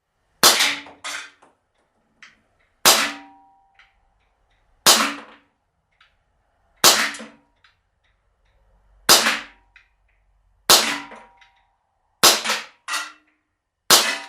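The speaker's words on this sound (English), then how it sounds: "Let's shoot the first 8 as I would normally line up a gun." A KWC 24/7 TAC non-blowback CO2 pellet pistol fired eight times outdoors, sharp loud cracks spaced about two seconds apart with a couple of quicker pairs near the end, each dying away into silence.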